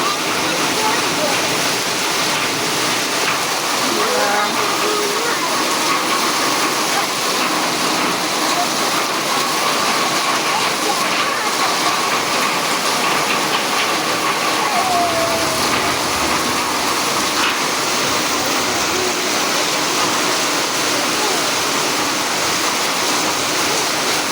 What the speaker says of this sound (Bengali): অনেক বৃষ্টি হচ্ছে, দেখো।